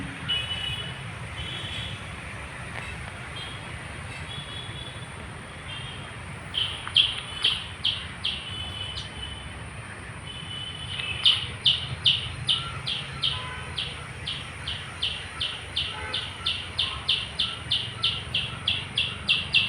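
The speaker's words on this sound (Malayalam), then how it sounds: "പക്ഷികളുടെ കർണാനന്ദകരമായ കളകൂചനങ്ങൾ സംഗീതാത്മകമായി" Rapid, evenly spaced high chirps repeat in steady bursts over a constant background hum, a small bird calling insistently at moderate distance in Sarovaram Bio Park, Kozhikode.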